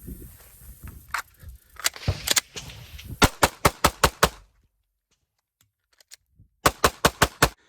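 Glock pistol fired in rapid strings of sharp, loud cracks, several quick shots in a row, then a pause of near silence before another fast burst of about five shots, with handling noise early on.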